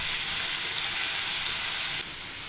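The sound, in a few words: green chili, garlic and coriander paste frying in a pan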